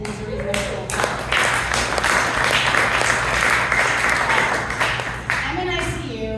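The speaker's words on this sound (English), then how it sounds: "I want to slow clap for Sam that took me to ICU" Audience applause at a live comedy storytelling show, a dense sustained clapping that swells for about four seconds, with a voice speaking at either end.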